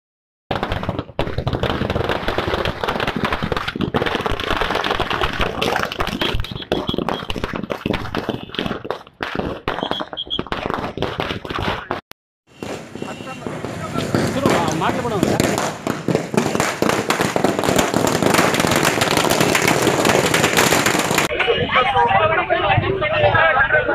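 Firecrackers set off by party workers at a by-election victory celebration in Karnataka, bursting in dense, rapid crackling volleys amid a noisy crowd, with a brief lull midway before the barrage resumes louder.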